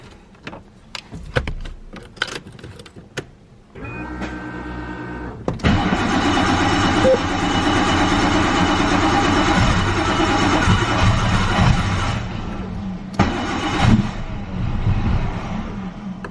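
A Nissan R32's engine cranks with a steady starter whir, struggles, then catches and settles into a loud, sustained rough idle with a brief dip and restart near the end; no talk over it.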